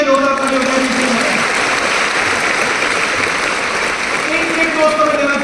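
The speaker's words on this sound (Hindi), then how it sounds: "प्लीज इनके लिए जोरदार तालियां बजाएं।" Sustained, loud applause from a large audience at a Delhi success day event, a dense wash of clapping that holds steady from start to finish, with faint voices or music tones drifting underneath.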